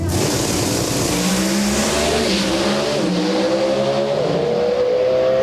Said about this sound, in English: Oh, and Conley's out of the throttle again